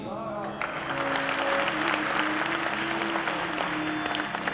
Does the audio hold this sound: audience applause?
yes